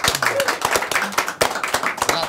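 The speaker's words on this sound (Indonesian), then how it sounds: "Tepuk tangan buat Bang Ajis, doa ibu." Quick, lively clapping from an audience at a stand-up comedy competition final, dense and close, with voices talking through it.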